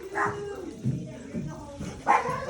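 Dogs loose near a small chicken house bark and yip in short excited bursts, close by, mixed with whimpering and a person's voice calling to them.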